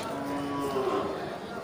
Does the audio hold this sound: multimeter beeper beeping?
no